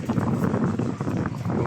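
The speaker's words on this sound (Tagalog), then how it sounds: "Napakalakas po ng hangin." Strong wind buffeting the microphone outdoors, a continuous rough low roar with gusty fluctuations throughout.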